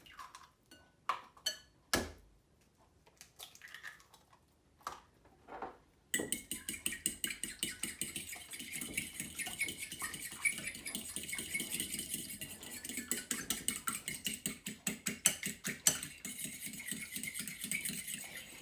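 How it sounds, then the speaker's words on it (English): Two eggs being beaten for butter tart filling, a few separate clinks at first, then a fast, steady run of close utensil taps against a bowl, alone without speech. "the first thing I'm going to do is beat up the eggs"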